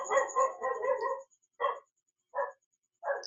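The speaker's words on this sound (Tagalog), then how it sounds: "Ayan, yung aso nag-iingay pa." A dog nearby barks in a rapid burst of several yips, then gives three more separate barks with pauses between them. A faint steady high tone sits in the background.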